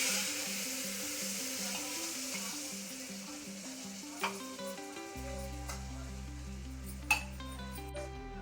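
Spiced eggplant frying in a pot as leftover masala water is poured in, a steady close sizzle with stirring and a couple of sharp utensil clinks, a low bubbling hum joining partway through; no talk.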